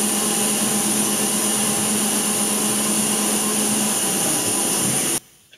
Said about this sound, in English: 4 holes all the way through 3/4-inch thick aluminum in just 5 seconds